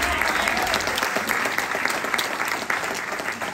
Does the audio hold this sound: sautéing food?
no